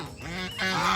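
Geese honking loudly at a goose market, a dense overlapping chorus of nasal calls from several birds at close range, continuing without pause.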